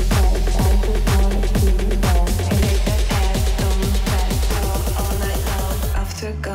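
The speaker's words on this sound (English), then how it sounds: "So this is the complete build up." EDM build-up from a track: a dense, loud electronic mix driven by a steady pounding kick and layered synths, holding a constant drive for about six seconds before thinning out abruptly at the end.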